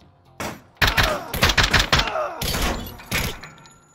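Gunfire in a tactical shooter video game: a close cluster of sharp shots and rapid bursts over a few seconds, with a couple of further reports trailing off.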